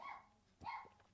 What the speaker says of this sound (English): That's the dog having a bark at the postman.